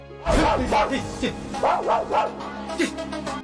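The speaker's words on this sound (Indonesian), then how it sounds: "anjing milik Gautam sempat gonggong melihat Nanda" A dog in an Indian film barks repeatedly, close and loud, in a quick run of roughly six or seven yaps over a few seconds.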